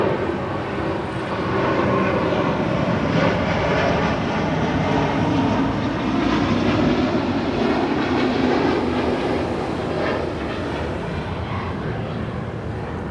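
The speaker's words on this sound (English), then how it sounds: "This is British Airways Flight 282 departing to London Heathrow on an A350-1000." British Airways Airbus A350-1000 airliner departing Los Angeles International Airport, a continuous loud broadband jet engine roar that holds steady throughout with no talk.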